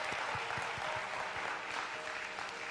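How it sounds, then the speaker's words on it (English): An audience at a Unification Church gathering applauds, a sustained patter of many hands clapping at a steady level that sounds somewhat distant. "Let's give him a warm round of applause."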